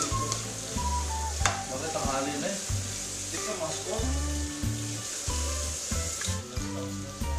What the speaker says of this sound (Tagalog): At isosaute lang po natin yung ating onion, garlic, ginger, at maglagay na rin po ako dito ng green chilies.